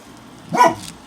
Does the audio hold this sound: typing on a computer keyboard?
no